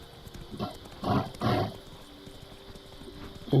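Horse hooves clip-clop in The Witcher 3 video game, a few muffled, uneven bursts of steps beneath a low ambient game drone, fairly close, with no talk over them.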